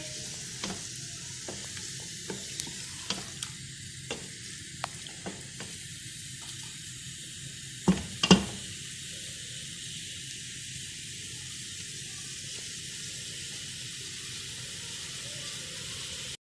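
Masala tinda, round gourd, sautéing in a pan with a steady quiet sizzle, punctuated by scattered light clicks of a spoon and a couple of louder scrapes midway.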